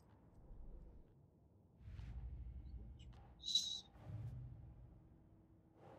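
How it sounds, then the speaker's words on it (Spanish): A bird in the video game Alan Wake II gives a single brief, shrill call in the middle, set against a low, rumbling ambient backdrop. "Esas aves suenan horrible"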